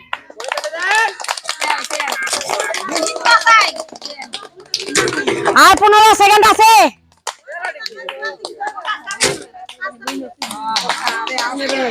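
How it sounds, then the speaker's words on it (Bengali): An audience at a village women's game competition, where players balance a ball on the head, claps in rapid, loud bursts. A commentator's voice and excited shouting from the crowd come in between the claps. "সবাই জোরে হাততালি দেন"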